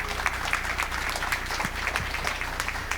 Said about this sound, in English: Big round of applause for our participants up here.